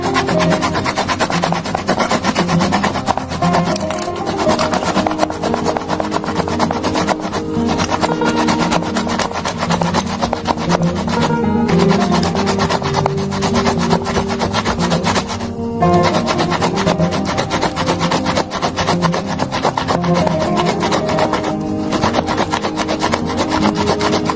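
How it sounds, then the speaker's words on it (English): A small tomato is rubbed against a grater in a continuous rasping scrape with repeated back-and-forth strokes, loud and close, and no talking. "with a grate or shredder, shred the tomato like so"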